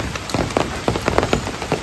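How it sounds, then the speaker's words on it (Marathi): Rain falls steadily in a rainforest beside bamboo and vines, a dense even hiss with irregular louder drops tapping on leaves and surfaces close by. "त्या वर्षावनामध्ये पाऊस चालू आहे"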